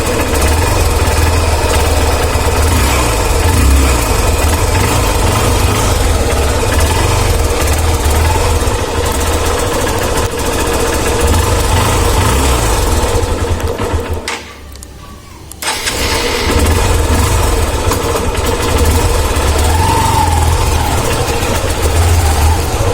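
A cold motorbike engine idles outdoors after a month off the road following an accident, holding a loud, steady, close drone for over twenty seconds with one short drop in level midway.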